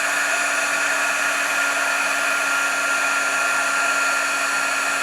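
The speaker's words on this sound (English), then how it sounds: "go ahead and heat set at this point. And I'm going to turn on my gun." A heat gun runs continuously while heat-setting embossing powder on a stamped craft card, a steady, loud blowing hum with a constant tonal whine.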